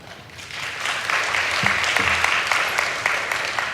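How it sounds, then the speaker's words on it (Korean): Crowd applause fills a Korean church service during a late-night worship sermon, steady and dense clapping from many people lasting the whole stretch with no voices over it. "저한테 치는 박수가 아닌 줄 알고 있습니다. 우리 하나님께 영광의 박수를 크게 올려드리겠습니다."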